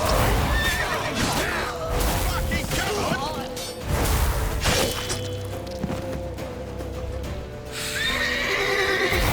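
A horse in The Witcher 3 whinnies repeatedly amid galloping hoofbeats, clashing thuds and crashes, with shouting voices urging each other on over the loud, busy action.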